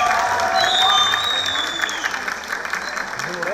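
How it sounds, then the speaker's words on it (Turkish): A crowd at a teachers' singing competition final in Van applauds a contestant, loud dense clapping with some cheering, up close and continuous, over a faint whistling tone. "alkışlarınızla İsmail Göksu."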